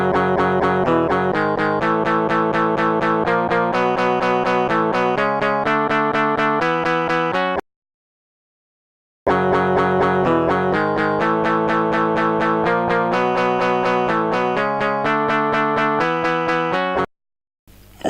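Tracker-sequenced guitar and drums from openMPT play a loud, steady riff of repeated chords with an even pulse. The passage is heard twice with a short silent gap between, first one version and then the other.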